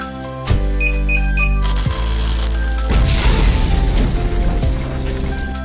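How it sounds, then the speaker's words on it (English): A loud cartoon boom and crash as a microwave blows up in a 3D animated cat comedy, a sudden burst that dies into lingering rumbling debris and clatter, with no talking. "The kitten used the microwave incorrectly and caused a huge explosion."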